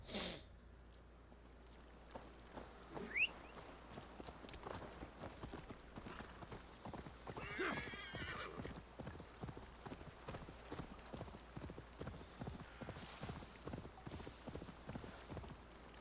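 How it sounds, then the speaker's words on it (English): Rhythmic hoof clip-clop of a horse moving steadily in Assassin's Creed Valhalla, with a brief snort or whinny early on, over a low constant game background hum. "That horse just did Michael Jordan."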